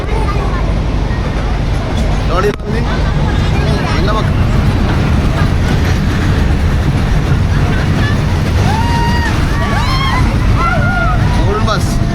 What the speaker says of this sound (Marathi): आता आम्ही ड्रॅगनवाली ट्रेनमध्ये बसलेलो आहेत